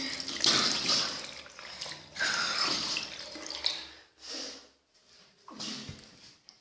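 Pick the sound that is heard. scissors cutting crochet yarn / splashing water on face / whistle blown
splashing water on face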